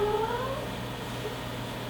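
A cat meows with a rising, drawn-out call near the start, heard close against a steady low indoor hum with no talking.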